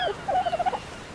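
A bird in ARK: Survival Evolved gives a short call of several quick chirping notes in a rapid run, close and fairly clear, with no talk over it.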